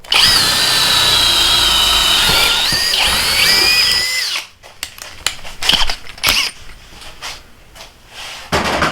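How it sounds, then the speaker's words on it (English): A hammer drill bores a 1-inch hole in a steady, loud whine for about four seconds. It then stops abruptly, leaving a few clunks and handling knocks. "I'm going to do a hole right here."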